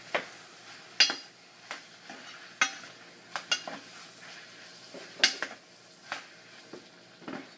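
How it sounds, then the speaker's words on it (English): A utensil scrapes and clinks repeatedly against a pan while starchy pasta is stirred with sesame oil, over a soft background sizzle; the knocks are irregular and close, and no one speaks. "and just start mixing it around"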